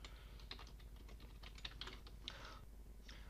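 Typing on a computer keyboard, with a quick, irregular run of soft key clicks that clusters in bursts and then pauses. It sounds close and quiet over a low, steady hum, with no talking.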